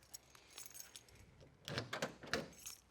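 Keys jangle softly and metal clicks as a key works the door lock of a 1989 Chevrolet Blazer 4x4, close and fairly quiet.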